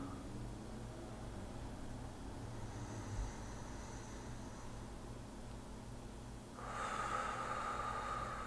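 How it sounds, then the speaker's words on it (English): Slow belly breathing, with long, steady inhales and exhales close to the microphone. Soft, airy breaths sit over low background hum, and a stronger breath swells near the end. "breathing down, focusing our air into the belly."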